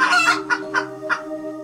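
Several chickens clucking close up in short, bright bursts, with a steady low hum underneath.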